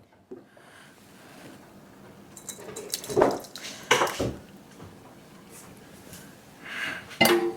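Simmered fresh tamarind is strained for salmon sinigang: wet pouring and dripping with scattered clinks of metal utensils and a pot, a few louder knocks and scrapes amid soft splashing.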